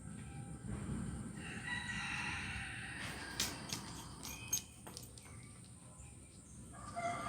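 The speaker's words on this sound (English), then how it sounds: "Are we hearing roosters?" A rooster crows somewhere outdoors, a faint, fairly distant cock-a-doodle-doo rising over steady background hiss, with a few other soft bird and ambient sounds scattered through the stretch.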